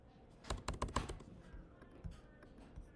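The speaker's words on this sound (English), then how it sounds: "Once I have cell C4 highlighted, I can either just start typing my name" Keys clatter on a computer keyboard while a name is entered into a spreadsheet cell, a quick burst of close, crisp taps followed by a few scattered keystrokes.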